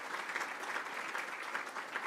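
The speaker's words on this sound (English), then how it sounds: "Can I request a round of applause?" Audience applause fills a hall at a university founders lecture and gala dinner, a steady dense patter of many hands clapping at moderate level throughout.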